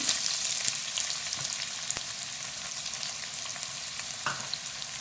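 Onions frying in hot oil, a steady close sizzle with scattered crackles and a few soft clinks of a utensil, no voices.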